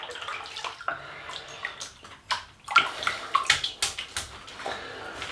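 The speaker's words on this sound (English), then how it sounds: "So we'll start lathering that." Wet squelching and swishing as a 24 mm shaving brush on a barber pole handle lathers Maximo Gomez shaving soap, close up, in irregular bursts that grow busier toward the end, with no talking.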